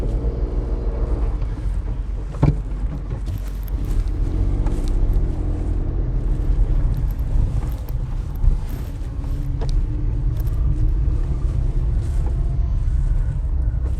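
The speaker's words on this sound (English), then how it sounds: "Let me just drive up there and see." A car driving up to a residence: a loud, continuous low engine and road rumble heard from inside the vehicle, steady throughout with a couple of brief knocks, and no talking.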